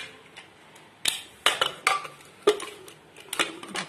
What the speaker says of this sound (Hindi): ढक्कन लगा दे रही हूँ,